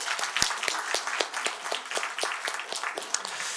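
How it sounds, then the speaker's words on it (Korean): A church congregation claps to welcome Sunday school teachers during a Sunday worship service, steady mixed applause from many hands filling the room for a few seconds with no talk. "우리 박수로 한번 환영하도록 하겠습니다."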